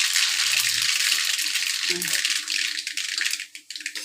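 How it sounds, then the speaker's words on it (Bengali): Mustard seeds hit hot oil in a pan with a bright, sizzling crackle that rattles briefly and then fades over a few seconds. "এই দেখুন সর্ষেগুলো আমি দিয়ে দিচ্ছি"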